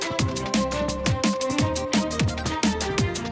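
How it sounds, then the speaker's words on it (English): A quick drum and bass track plays loud and dense, with fast breakbeat drums, punchy kicks and snares in a rapid driving rhythm over deep bass and synth layers, no voices. "I've just put together a really quick drum and bass track."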